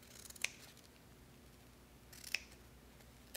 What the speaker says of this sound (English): So I'm going to cut the ends of that one like that.